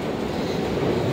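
A train at a railway platform produces a steady, close, low rumble that fills the short stretch without breaks, and no one speaks.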